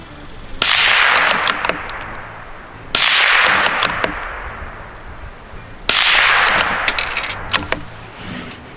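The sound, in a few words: CZ 455 rifle firing supersonic American Eagle bulk ammo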